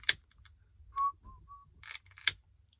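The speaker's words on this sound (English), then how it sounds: "Don't whistle when you're doing that heat shrink." A few short, quiet whistled notes come from someone applying heat shrink while working on monorail train pickups, set among soft clicks and clattering handling noises, with no talking.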